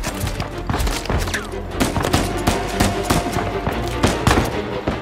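Dense gunfire in the video game Uncharted 4: repeated sharp shots and bursts crack throughout, with thuds and a busy battle mix underneath, loud and continuous.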